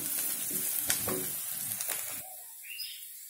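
Onions fry in a pan for chana dal sabji, making a soft close sizzle with a few stirring scrapes that cuts off partway, leaving faint chirps in the background.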